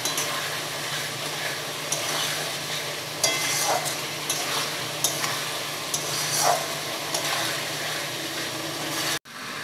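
A spice masala with sugar is sautéed in a pan for a jackfruit seed fritter curry, a continuous sizzle with scraping, knocking stir strokes recurring every second or two, fairly close, with no voices.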